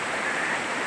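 Dalki waterfall at Godri ghat, a loud, steady broadband rush of falling water that fills the short moment without a break, close and unvarying.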